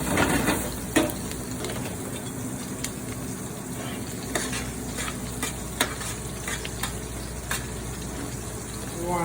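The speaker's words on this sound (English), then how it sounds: "This is a real nice sear on these wild mushrooms" Wild mushrooms searing in a smoking-hot pan give a steady, dense sizzle with occasional clicks and stirring scrapes, close and continuous, with faint talk in the background.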